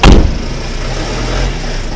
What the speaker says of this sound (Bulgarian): Ето, както виждате, автомобила напуска место происшествието.